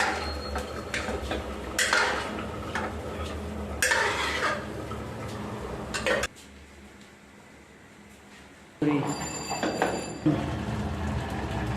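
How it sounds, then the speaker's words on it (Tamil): A spoon scrapes and clanks against a pot as rice is mixed into quail biryani, in loud bursts of stirring with a quiet gap in the middle, no talking. "இப்போ அப்படியே அரிசியை கலந்துட்டோம்"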